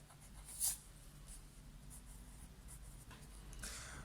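Pen or pencil strokes scratch softly on paper while an answer is written during an English lesson: quiet, light rubbing marks over a faint background hum.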